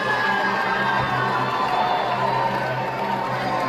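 A large crowd at a state wrestling championship cheers and roars in a steady, dense wash of voices as a wrestler runs and leaps into the stands, loud and continuous throughout.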